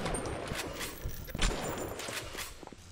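Rapid gunfire in a video game as a tough enemy soaks up bullets, a fast stream of sharp shots with some louder cracks, fairly faint and continuous.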